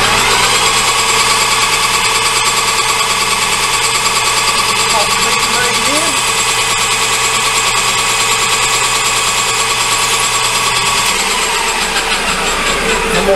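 Metal lathe turning down stainless steel stock, a steady loud whine and hum of the running machine throughout, with a lower drone dropping out near the end.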